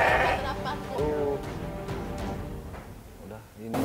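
Sick sheep brought by a farmer to a livestock clinic in Garut, Indonesia, bleat several times in short wavering calls, close by, mixed with people talking.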